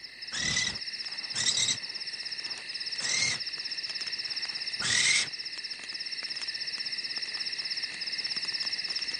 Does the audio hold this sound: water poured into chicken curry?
no